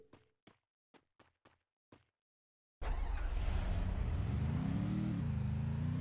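Car engine in the Free Fire video game starting after a few quick footsteps, then a loud steady motor drone that rises in pitch as the vehicle accelerates.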